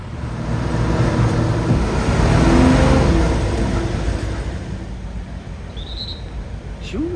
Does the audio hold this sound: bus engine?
yes